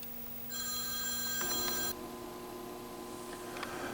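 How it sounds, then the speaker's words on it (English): Old-style telephone bell rings in a steady burst for about a second and a half, loud and close, over a faint electronic hum on an arcade pinball repair bench. "And I'm going to answer the phone."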